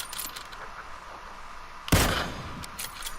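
A single sharp sniper rifle shot fired at a green target about 200 meters away in PUBG, cracking out loudly over quiet ambient background and trailing off into a short decaying echo.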